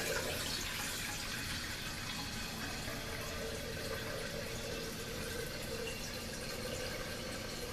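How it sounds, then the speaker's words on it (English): Clean tap water running steadily into a coffee maker carafe during rinsing, a constant close hiss and splash lasting throughout with no talk. "So now you just want to rinse this out with clean water"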